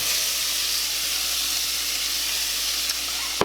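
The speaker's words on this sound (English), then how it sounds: "we're going to saute them in the pan, and I'm going to put a little bit of avocado oil in here" Vegetables sauté in avocado oil in a pan, giving a steady, broad sizzle that holds at an even level throughout, with a faint clink near the end.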